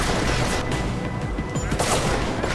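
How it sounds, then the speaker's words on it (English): A dense burst of rapid gunfire erupts in the video game Deus Ex: Mankind Divided, loud and continuous, with overlapping shots and booms forming a harsh, noisy barrage. "Oh damn, they're shooting at me."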